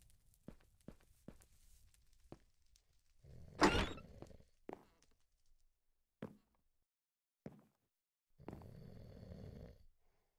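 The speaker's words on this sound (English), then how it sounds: "Sounds like something snoring." A sleeping character snores in a Minecraft Harry Potter Diagon Alley adventure map, with two drawn-out snore breaths several seconds apart, among scattered soft clicks and thuds.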